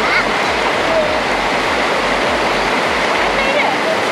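Clear river water rushes steadily at a picnic spot in Sabah with a view of Mount Kinabalu, a loud, continuous broadband flow with a faint low throbbing pulse underneath.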